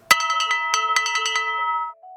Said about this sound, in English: Here's some plastic mallets.